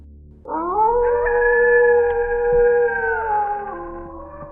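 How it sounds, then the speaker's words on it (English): Coyotes howl at night in Michigan woods, a single drawn-out rising howl with layered tones that holds steady and then slowly fades, loud and close with no talk. "What followed were the familiar yips of coyotes"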